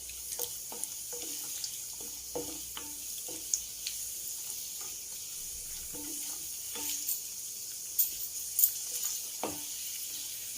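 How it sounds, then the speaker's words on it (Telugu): Cashew nuts frying in a pan while coconut rice is prepared, giving a steady soft sizzle with scattered faint crackles and pops close by, with no talking. "జీడిపప్పు వేయించుకుందామండి."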